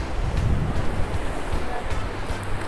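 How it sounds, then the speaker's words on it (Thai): Strong wind gusts blow across the rocky Yehliu coast in Taiwan, a steady roaring rush of wind noise with surf-like low rumble filling the whole clip. "ตอนนี้ลมแรงมากนะครับเดี๋ยวลมแรงมากแล้วก็หนาวมากด้วย"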